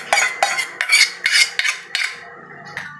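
Ingredients for buko pandan with shredded young coconut are stirred with a utensil in a bowl, giving about six sharp clinks and scrapes in a steady rhythm, close and fairly loud, with no talk.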